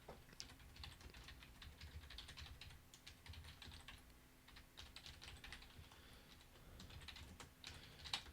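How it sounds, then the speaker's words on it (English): Someone types on a computer keyboard during a Minecraft livestream, producing quiet, fast, irregular clicking keystrokes that continue throughout with brief pauses, close to the mic and alone. "Just typing out something here for convenience sake."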